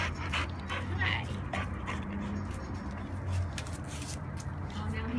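A shelter puppy pants and whimpers close by in steady, breathy bursts with occasional soft yips, heard under continuous background noise and talking.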